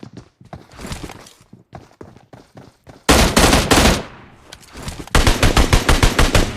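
Automatic gunfire in a battle royale shooter, scattered single shots and footsteps at first, then two long loud rapid bursts of an auto gun close by.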